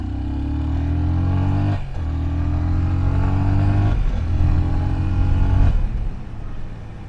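A Yamaha FZ25 motorcycle engine revs under repeated throttle twists, a steady close drone rising and falling in pitch with three distinct swells, heard alone without talk.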